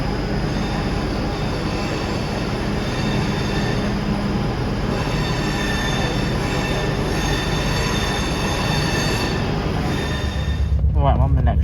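A CrossCountry train, out of service, at Birmingham New Street station: steady loud rolling rumble with high wheel squeal and whining tones that run throughout, close by and continuous, ending in a sharper clatter.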